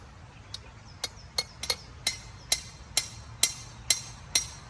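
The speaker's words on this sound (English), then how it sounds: "Grab that hammer and do that." Light metallic hammer taps ring out one after another while building a garden bed, about ten sharp strikes at an uneven pace, close by in a quiet space.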